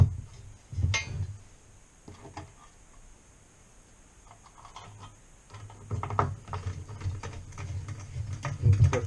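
Metal parts clink and ratchet as screws are driven home while assembling a metal-frame i3 Metal Motion 3D printer, with intermittent clicks and scraping near the microphone that grow busier toward the end.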